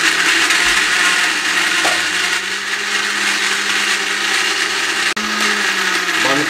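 A blender runs steadily, whirring loudly as it mixes a chocolate milkshake with ice, with a brief dip in the motor near the end before it carries on.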